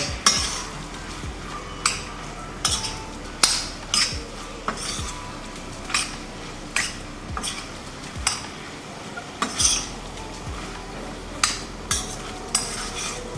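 A utensil stirs penne arrabbiata with cooked pasta in a pan, scraping and clinking against the metal in a steady rhythm of sharp knocks over a faint background sizzle.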